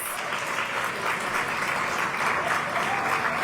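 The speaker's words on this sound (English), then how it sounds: "Let's give Kevin a big round of applause." Sustained applause from a crowd at a morning disability-community expo with the Mayor of Washington, D.C., a dense even wash of clapping that holds steady and loud throughout.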